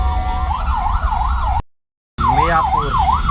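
An ambulance siren wails in heavy city traffic, loud and near, with a steady rising and falling tone over engine rumble, cut by a brief gap of silence before it resumes.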